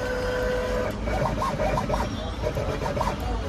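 A bladed sticker-cutting machine runs at close range, a continuous mechanical whir with scratchy cutting strokes and faint rhythmic ticks, and no talk over it.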